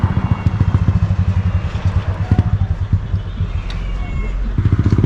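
Motorcycles revving during practice on a countryside road in Claveria, Misamis Oriental, with a rough, pulsing engine drone and repeated throttle bursts, loud and near, while people talk over it.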